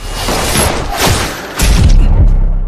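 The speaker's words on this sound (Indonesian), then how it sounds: "Tetapi karena Sana menolak ajakan Wuli, akhirnya mereka pun jadi saling menembak." Heavy booming shots and thuds crash in quick succession, loud and close, with a brief lull before another burst.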